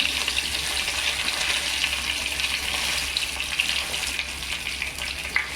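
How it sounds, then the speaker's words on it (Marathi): Cumin seeds and curry leaves sputter in hot oil for a mushroom green bhaji, a steady, loud hiss-and-crackle that holds evenly over a low burner hum with no talking. "तेल टाकल्याय मी त्याच्यात जिरा टाकला थोडा दोन तीन पानं कढीपत्त्याची घातले"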